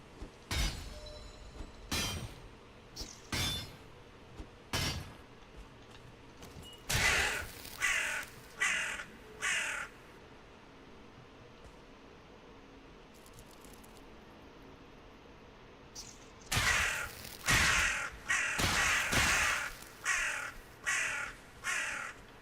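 Crows caw in the video game Valheim, first as scattered single calls, then in two loud bursts of rapid repeated caws, over a quiet ambient bed.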